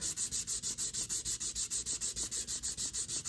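Steady back-and-forth sanding with 600-grit sandpaper on a model C60 flatbed, a rapid rhythmic scratchy rasp, close and even, with no voices.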